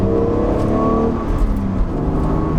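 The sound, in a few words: BMW Z4 engine revving then throttle let off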